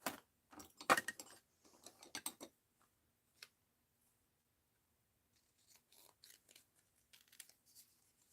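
Scissors trim a paper cutout of a lady for a mixed-media art journal. Crisp, close snips come in quick bursts, then a pause and a few lighter cuts, with no talking.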